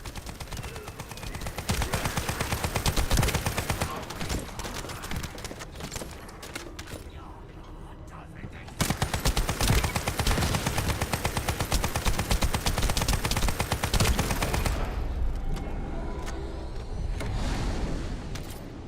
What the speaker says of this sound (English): this machine gun feels pretty solid